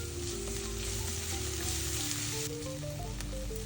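Garlic fries in oil alongside onions, giving a close, steady crackling sizzle that runs unbroken.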